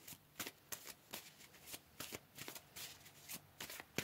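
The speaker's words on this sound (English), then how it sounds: "Let's pull another card" Tarot cards being shuffled by hand during a pick-a-card reading, a quiet run of repeated riffling bursts at an uneven pace, close and soft with no talking.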